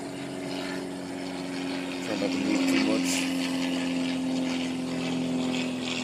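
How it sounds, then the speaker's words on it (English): A propeller airplane drones overhead in a wooded spot, a steady engine hum that swells slightly midway and lingers throughout, while a person speaks quietly close by. "plane flying right over me."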